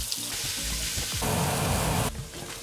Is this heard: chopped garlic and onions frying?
yes